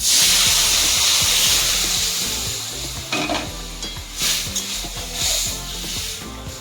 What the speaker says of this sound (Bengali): পেঁয়াজটা আমার হালকা ভাজা হয়ে গেছে এবার আমি ডালটা দিয়ে দেবো